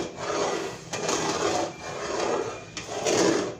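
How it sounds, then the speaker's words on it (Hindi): A spoon scrapes and stirs thickening milk in a pan while it cooks down into khoya, giving repeated rasping strokes in a slow, steady rhythm with short pauses between sweeps. "लेकिन इस जगह पे हमने कंटिन्यू चम्मच चलाते रहना है"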